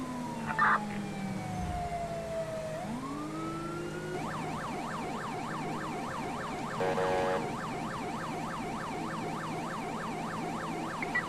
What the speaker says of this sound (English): Go ahead and reduce your sirens now.